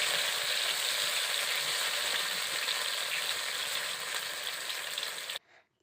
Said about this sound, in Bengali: বাদ বাকি আর এক পিঠ ভাজা হয়ে গিয়েছে আমি উল্টে নিচ্ছি